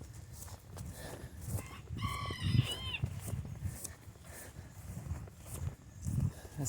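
Chickens on a farm on a rainy day, with a short harmonic crow or squawk rising mid-clip over low clucks and shuffling footsteps, fairly faint and a little distant.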